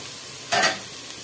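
Rice tipped onto onions frying in a little oil gives one short burst of sizzling and stirring, loud and close, then the pan settles back to a faint hiss.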